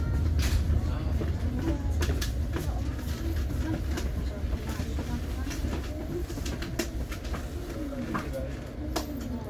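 Tegal Bahari business class train pulling into Bekasi station in Indonesia: a steady loud rumble of wheels and carriages with scattered clicks and clatter throughout, heard from nearby.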